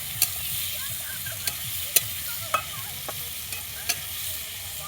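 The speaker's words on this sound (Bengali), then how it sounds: "তো পেঁয়াজ ভাজা হয়ে গেছে," Onions frying in a pan give a steady soft sizzle, with sharp clicks of a spatula stirring against the metal several times, close by and without talk.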